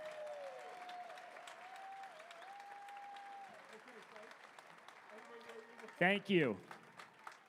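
Audience applause at a Western States 2025 race meeting fills the room as a steady, fairly distant clatter of many hands, with a sustained musical tone underneath and a brief spoken thanks near the end.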